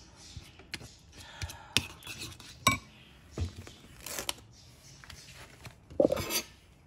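A spoon clinks and scrapes against a bowl in irregular bursts, with soft stirring and tapping sounds close by and no talking.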